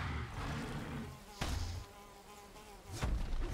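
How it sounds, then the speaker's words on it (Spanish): Continuous droning buzz of a mosquito creature in Valheim, wavering in pitch, with a couple of sharp thuds breaking through. "¿No se pega con el mosquito?"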